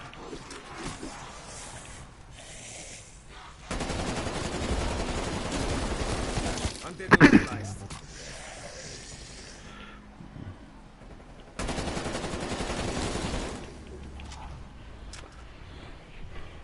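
Bursts of game gunfire from Call of Duty Cold War: two sustained rattling volleys, the second shorter, with a sharp louder crack between them and quieter stretches in the gaps.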